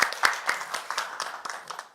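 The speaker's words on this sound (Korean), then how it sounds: "다시 한번 우리 이석현 부의장님께 뜨거운 박수 부탁드리겠습니다." Applause at a Korean National Assembly forum on internet policy, a sparse, uneven patter of a smallish audience clapping, individual claps distinct and moderately close, thinning toward the end.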